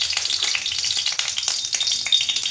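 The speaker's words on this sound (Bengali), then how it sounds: "এবারে আমি কড়াইতে ফোড়ন দেবো" Spices tempering in hot oil in a wok give a close, steady crackling sizzle dotted with small pops and spits that runs for the whole short stretch without a pause.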